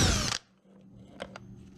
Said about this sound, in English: we got an impact with 27mm socket